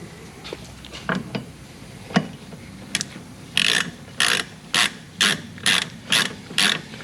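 Ratchet fitted with a 24 mm socket snugging a wheel bearing nut on a Mazda FB RX-7 during a brake and coilover install: scattered clicks at first, then a regular run of loud ratcheting bursts, close up.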